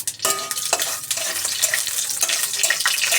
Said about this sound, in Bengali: এই যে ফোড়ন দেবো বলে সর্ষে, শুকনো লঙ্কা আর কাঁচা লঙ্কা দিয়ে দিয়েছি কড়াইতে